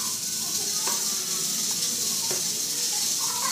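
A broad, steady sizzle of chicken browning in hot oil in a pan for brown stew chicken, with a few faint clinks and knocks in the background.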